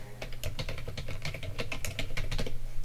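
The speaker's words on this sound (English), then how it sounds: "you can type in Instagram reel" Typing on a computer keyboard, a quick run of crisp, close key clicks at a brisk, slightly irregular pace over a faint low hum, with no speech.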